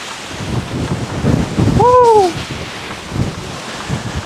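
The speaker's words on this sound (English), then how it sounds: "It's getting super windy out here." Strong wind rumbles and buffets the microphone outdoors as rain starts, with a brief whistling tone in the middle, and nobody speaking.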